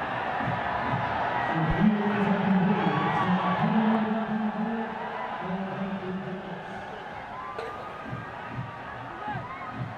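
Cricket spectators roar and cheer at a match between Janakpur Bolts and Sudurpaschim Royals, a dense crowd swell with whoops and shouts rising strongly early on, then easing into a steady, slightly quieter hubbub.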